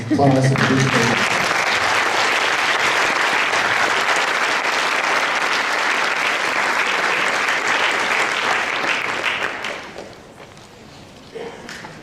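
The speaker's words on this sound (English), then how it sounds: "we should all give yourselves a round of applause" A sustained round of applause from the audience at a Mu Alpha Theta and Science Honor Society induction, loud and steady for about ten seconds before fading out, with a brief voice at the start.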